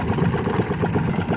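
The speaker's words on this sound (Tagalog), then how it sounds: "Hirap po yung makina" A boat engine drones steadily under strain, its low, heavy rumble continuous and close throughout with no pauses.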